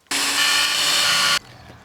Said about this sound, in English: And then we can drill a few holes.